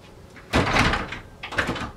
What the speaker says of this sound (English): I just realized that my closet door is open and this is driving me nuts